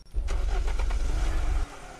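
A car in the video game Unturned cranks briefly, then its engine rumbles low and steady for about a second and a half before cutting off.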